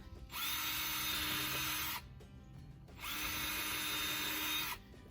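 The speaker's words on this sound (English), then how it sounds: "I'm going to put 2 pilot holes in." A power drill whirs in two separate bursts, drilling pilot holes in pallet wood, each spinning up for about one and a half seconds before stopping, with a short pause between them.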